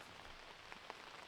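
Light rain pattering outdoors on a disc golf course, a soft steady hiss of drops with faint scattered taps, quiet and distant, with no talking.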